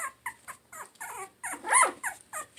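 A mother dog whines and cries outside a room holding her 22-day-old weaned puppies, eager for their snacks. She gives a string of short, high-pitched whimpers at moderate distance, rising into a louder, longer whine midway.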